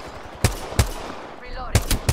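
Several sharp, close gunshots from a video game, spaced singly and then in a quick pair, with a brief electronic chirp between them.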